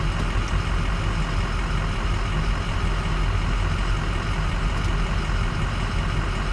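A vehicle idles and runs through its transmission gears after fresh fluid fills the valve body, with fluid temperature at 149; a steady, dense engine drone holds at a constant loud level with no clear shifts.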